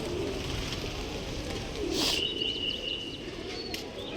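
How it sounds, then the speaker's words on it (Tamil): Pigeons at Pashupatinath temple in Nepal give soft cooing calls and brief chirps over a steady bed of outdoor crowd and ambient noise, with a faint flutter of wings partway through. "பாருங்கள் எவ்வளோ புறாக்கள் அழகாக இருக்குங்க"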